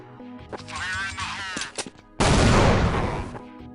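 A grenade explosion in Counter-Strike 1.6 bursts loudly partway through, a single heavy blast with a rumbling tail, preceded by quieter game noises.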